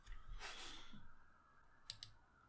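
A few quiet mouse clicks while answering a Dragon Ball quiz on a computer: a rustly handling noise first, then two sharp, close clicks in a quiet room.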